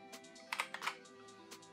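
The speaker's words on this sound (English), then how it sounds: "Let me give you guys a little typing test" Typing on an X-Bows ergonomic mechanical keyboard with Gateron brown switches, a few soft tactile keystrokes in short irregular clusters, close and quiet over a faint steady hum.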